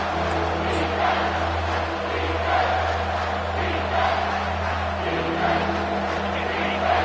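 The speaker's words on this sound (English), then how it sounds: "Decibels rising as the crowd gets behind this defense on 3rd down." A football stadium crowd roars steadily behind the defense on third down, a dense, sustained wall of cheering and shouting that swells slightly in waves.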